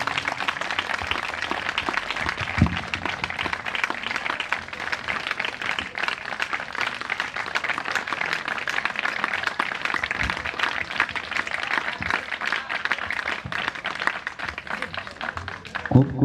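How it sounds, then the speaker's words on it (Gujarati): Steady applause from a school audience at an award ceremony, dense and even throughout without a break, with faint voices mixed into the clapping. "તાળીઓ."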